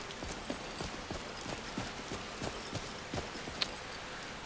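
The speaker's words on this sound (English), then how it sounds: "Cold rain is not comfortable, but I'm okay in the cold." Steady cold rain falls in the Skyrim video game along a mountain pilgrimage toward High Hrothgar, a constant fine patter with a few brief sharper drops and some rhythmic thuds, no talking.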